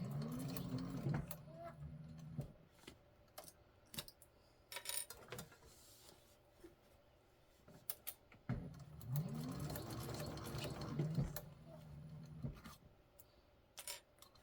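A sewing machine top stitches a handbag in two bursts of rapid motor whirring, each broken by clicks and small handling knocks, with quieter pauses of fabric shuffling between them.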